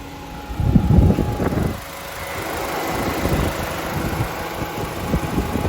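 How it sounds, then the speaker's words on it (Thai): A 2012 Honda City 1.5 engine idles steadily and low, with a brief rev at the start before settling into an even rumble. "ไปฟังเสียงเครื่องยนต์กันสักนิดครับ"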